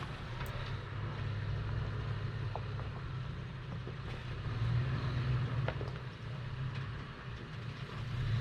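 A Toyota FJ Cruiser engine rumbles low and steady as the truck crawls up an off-camber turning climb on a sandy desert trail, with a few faint knocks and creaks and no speech.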